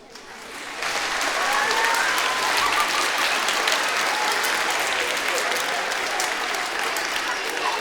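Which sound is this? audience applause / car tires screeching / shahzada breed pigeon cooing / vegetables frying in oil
audience applause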